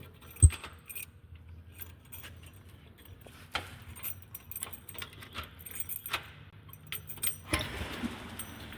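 Keys jingle and clink as a door is unlocked at a luxury villa, with a sharp metallic rattle near the start and scattered fainter jangles and handling noises through the rest.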